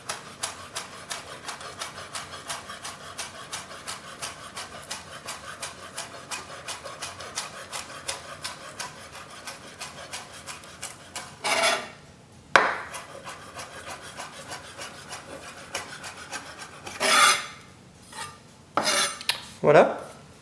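A knife finely chops flat-leaf parsley on a wooden cutting board in a fast, steady run of light taps, with a few louder knocks and scrapes near the end.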